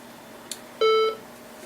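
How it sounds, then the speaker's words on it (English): A Macintosh Performa 640CD with a DOS compatibility card gives a short, clear electronic error beep, one steady tone after a faint click, otherwise quiet. "it's making those error beeps"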